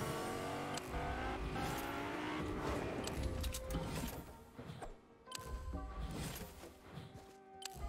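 A car driving in Fortnite, its engine droning and revving steadily under continuous game music, with shifting pitch as it accelerates and eases off, fairly loud and close.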